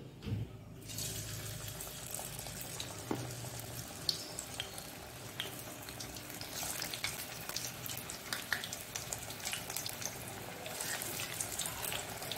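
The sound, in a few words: jackfruit kebabs frying in hot oil in a kadai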